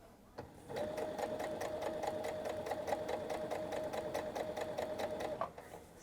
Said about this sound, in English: Hold it tight to the fold, and then sew.